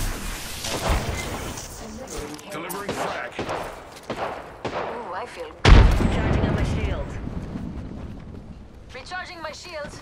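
Gunfire in Apex Legends erupts in scattered bursts with one heavy boom midway, mixed with players talking excitedly over the shots.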